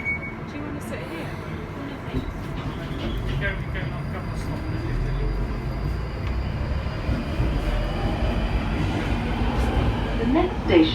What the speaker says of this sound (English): This is a Northern Line train terminating at Morden.